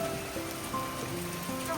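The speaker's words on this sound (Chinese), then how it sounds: "晚上这么一会儿就已经有这么大的雨水下来了" Heavy rain pours down at night during a windy storm, a dense, steady hiss of drops striking surfaces close by that continues without pause.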